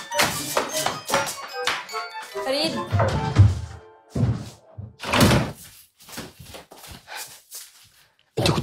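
A door thuds and bangs a few times amid people talking in a home, the knocks and slam standing out clearly between the voices.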